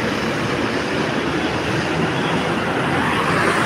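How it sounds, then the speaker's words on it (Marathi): Continuous traffic on the NH4 highway, a dense, steady roar of passing vehicles and tyre noise that stays loud and unbroken throughout, with no talking. "पाहू शकतात दादांनो मित्रांनो NH4 हायवेचे ट्रॅफिक"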